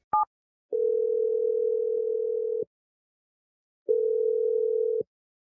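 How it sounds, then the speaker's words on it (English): A telephone call being placed: a short dial blip followed by two long, steady ringback tones separated by a gap of silence, clean and close. "We're going to dial the number right now."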